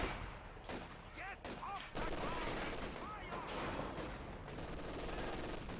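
Sustained battle gunfire from the World War II strategy game Company of Heroes 2, a dense, continuous wash of rapid shots with heavier salvo bursts, heard under an excited commentator's voice.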